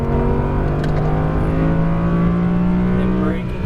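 An Audi R8 V10 Plus accelerates on a race track, its engine note holding a loud, sustained drone that climbs slowly in pitch as the throttle is squeezed, recorded from close inside the car.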